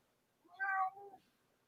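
A single cat meows close by, a drawn-out call lasting about half a second before trailing off into a softer tail, with near silence on either side.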